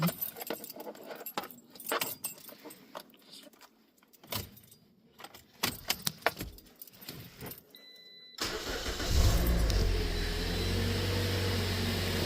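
Toyota Corolla 1.8L engine, freshly fitted with a new timing chain, tensioner and guide: keys jangle and shuffle for several seconds, then the engine cranks briefly, catches and settles into a steady, fairly loud idle.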